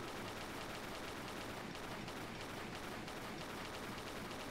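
Gunfire in Tomb Raider III rattles continuously in a dense, steady stream of rapid shots, loud and unbroken, with no talking over it.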